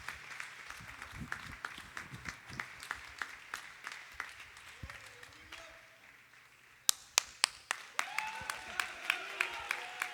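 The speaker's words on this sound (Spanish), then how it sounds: "Vamos a darle un fuerte aplauso a Dios por su vida." A church congregation claps in scattered, uneven bursts during a Spanish-language evening service, with a sharper round of loud, rhythmic clapping building near the end, and voices faintly audible underneath.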